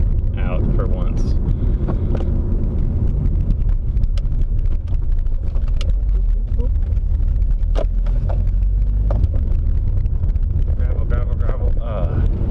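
A manual-transmission car rolls over a gravel road, giving a steady, dense low rumble with wind buffeting the microphone and scattered light ticks and crackles throughout, close and constant.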